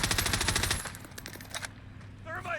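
Rapid automatic gunfire in the Warzone video game, a fast burst of repeated shots lasting under a second, then a few scattered single reports and clicks, loud and close.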